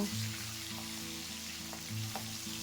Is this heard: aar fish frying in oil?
yes